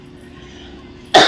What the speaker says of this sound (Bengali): যেমন কাশি হচ্ছে তেমন পেন হচ্ছে